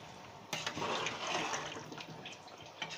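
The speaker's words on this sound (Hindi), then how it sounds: "जो यखनी थी हमारे पास, वो मैं इसमें डालूँगी।" Meat stock (yakhni) poured into a pot of paya curry, a sudden splashing pour that rushes steadily for a couple of seconds and then tapers off, close and fairly quiet, with no talking.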